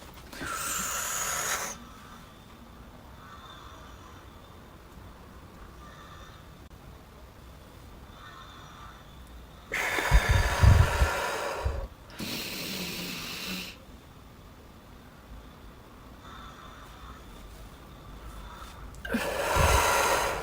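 Deep breathing exercise: a loud drawn-in breath at the start, then long quiet holds broken by two heavy, close breath bursts midway and another strong inhale at the end, no talking.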